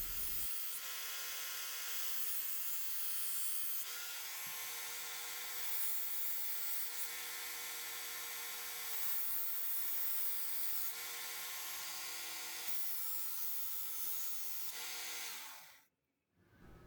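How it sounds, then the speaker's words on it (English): Knife blade drawn through a Work Sharp sharpening guide, giving a steady, loud abrasive whir that runs in several long, even passes with brief shifts between them, then stops abruptly near the end. "Let's give the blade a few passes through the sharpening guide."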